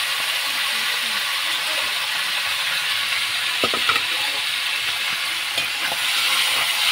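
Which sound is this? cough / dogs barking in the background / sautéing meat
sautéing meat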